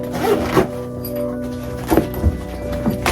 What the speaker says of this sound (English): So you just zip it up.